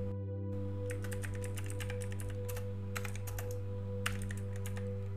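Keys clatter on a computer keyboard in quick irregular bursts of taps, fairly close and clear over a steady electronic hum, with no voices.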